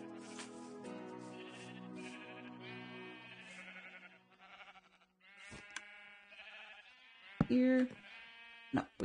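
Video game sheep bleating, several drawn-out wavering bleats close by with a few short clicks and game sounds, a brief harsher burst near the end.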